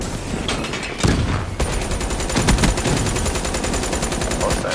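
Rapid automatic gunfire in Call of Duty Black Ops 3 multiplayer, dense continuous bursts with sharp repeated cracks throughout, loud and close, with a heavier burst early on.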